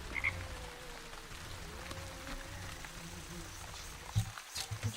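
Frog croaking in the video game Wytchwood, a low rough rattling croak that repeats steadily throughout, fairly faint, with a few brief thuds near the end.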